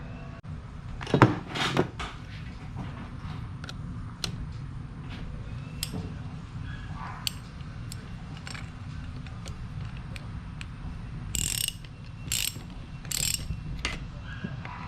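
Mechanical clicks and a ratcheting wrench tighten a compound turbo fitting on a 5.9 Cummins engine, steady low workshop hum underneath, with a louder clunk near the start and several sharp metallic clicks toward the end.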